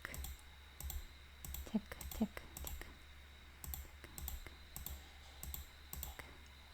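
A computer mouse clicks to tick boxes on screen: a series of quiet, close, crisp clicks in short bursts over a low background hum.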